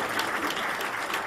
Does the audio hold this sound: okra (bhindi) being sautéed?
no